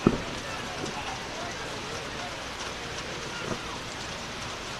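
Heavy rain falling during a high school football game, a constant dense hiss of rainfall across the field with faint crowd and commentary murmur underneath.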